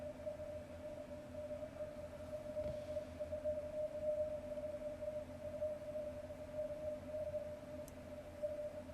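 A faint, steady ham radio signal hums beneath hiss and crackling static, barely rising out of the noise as a distant station sends its call sign.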